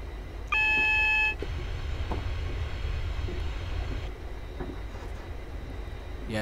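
A train on the Glasgow Airport Link in Train Simulator runs with a steady low rumble throughout, briefly topped by a bright electronic beep tone near the start and a few faint clicks.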